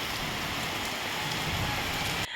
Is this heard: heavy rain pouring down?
yes